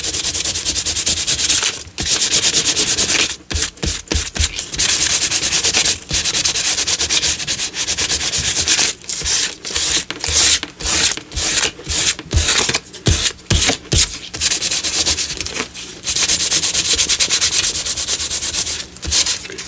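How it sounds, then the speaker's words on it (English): Steady, loud rubbing of 280 grit sandpaper by hand, long scratchy strokes broken by brief pauses and a quicker run of short back-and-forth passes, close up and alone. "I'm going to go ahead and use my sandpaper"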